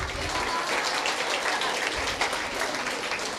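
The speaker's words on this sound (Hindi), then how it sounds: "Clap for her." Continuous audience clapping at a school Independence Day program with prize distribution, a steady wash of hands that carries through the whole stretch without talk.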